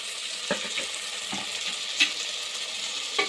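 Chili powder and biryani masala fry in hot oil for an egg biryani, giving a steady close sizzle with a few soft stirring knocks over about three seconds.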